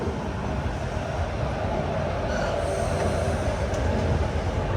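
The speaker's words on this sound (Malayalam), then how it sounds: "തിരുവനന്തപുരം റെയിൽവേ സ്റ്റേഷനിൽ കറക്റ്റ് 5:25 തന്നെ വേണാട് എക്സ്പ്രസ് എടുത്തിരിക്കുകയാണ്" The Venad Express pulls out of Thiruvananthapuram Central station with a continuous loud rumble of rolling coaches and a faint wheel squeal partway through. No one speaks over the steady train noise.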